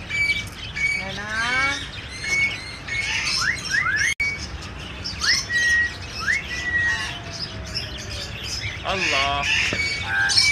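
Myna birds at a bird market shop in Lalukhet call repeatedly, close and loud, with rapid chirps, squawks and rising whistled notes in bursts, mixed with people talking nearby.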